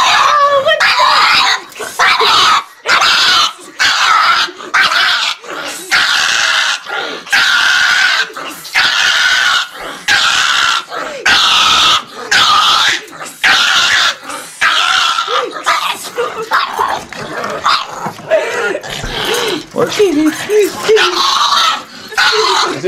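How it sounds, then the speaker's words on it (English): A dog growls and barks in a rapid series of loud, close bursts with brief gaps between them, while people talk in the background. "This is a naughty dog."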